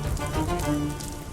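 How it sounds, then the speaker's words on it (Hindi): Rain patters steadily on a surface nearby, a dense hiss of drops with no talking. "बरसी बारिश"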